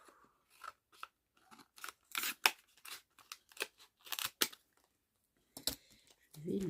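Scissors snip through a sewn seam in fabric to undo it, giving quiet, separate crisp cuts in short bursts with brief pauses between them.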